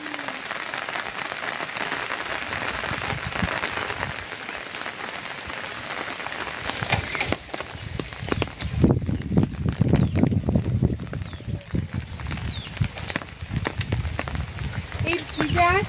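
Heavy rain in the Sundarbans patters and hisses steadily on surfaces, swelling into a denser, heavier downpour midway, while someone speaks intermittently over it.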